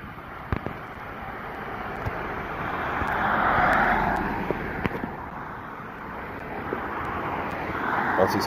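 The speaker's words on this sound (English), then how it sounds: "Once these cars fucking pass, I can cross the road." Cars passing on a road outside an African restaurant: a broad swelling whoosh of traffic rises and fades around four seconds, then another approaches near the end, with light handling noises in the foreground.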